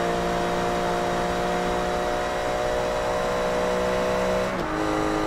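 A race car engine drones steadily in Forza Motorsport 3 during a Class R3 World Championship race, a loud sustained tone that drops in pitch near the end as the car shifts.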